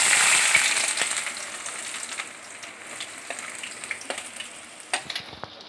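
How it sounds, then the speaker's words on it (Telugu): Onions sizzle and fry in hot oil for egg pulusu, a steady crackling hiss that starts loud and gradually settles, dotted with sharp spitting pops throughout, with no voices. "కొంచెం ఆయిల్ వేసుకొని తర్వాత దానిలోకి ఉల్లిపాయలు,"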